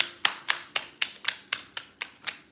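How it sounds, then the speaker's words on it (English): Tarot cards shuffled during a full moon reading: nine crisp, even snaps or taps about a quarter second apart, close and fairly soft, with no voice. "I'm going to shuffle one more time,"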